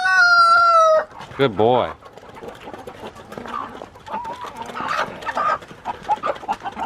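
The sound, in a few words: chickens clucking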